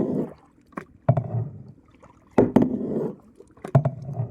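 Oars dip and pull through lake water near Lonavala in a series of close, sharp splashing strokes, some in quick pairs, with soft gurgling and dripping between them.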